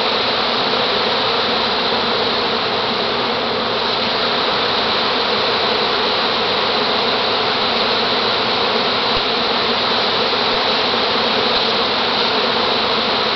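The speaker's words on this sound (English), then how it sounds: "Bees everywhere." Loud, unbroken drone of countless bees swarming close by, a thick hum that holds steady throughout without any voices.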